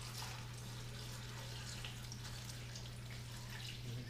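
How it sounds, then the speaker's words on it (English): Water is poured over freshly cut mixed vegetables for homemade pickles, producing a steady, moderately quiet rushing stream with a constant low hum underneath and no talking. "Yeah, I fill them with water."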